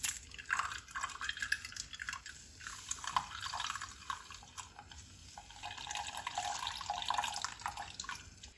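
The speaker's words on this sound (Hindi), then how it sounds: "अब इसको हम छान लेंगे।" Boiled orange (malta) peel liquid is poured through a strainer, with trickling, dripping water and faint metallic clinks from the pot, fairly quiet and continuous with uneven splashy bursts.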